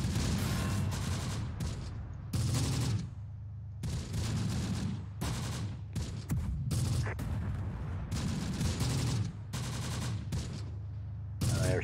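Mortar fire in the Close Combat: The Bloody First war game: a string of loud, sharp blasts and booming bursts repeats in an uneven rhythm, with short gaps between the explosions.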